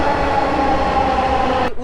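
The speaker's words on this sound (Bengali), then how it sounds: "মেট্রো চলে আসছে।" A metro train pulls into a station on the Dhaka line toward Uttara Diabari. Its loud, close rumble and rolling roar hold steady for under two seconds, then cut off abruptly.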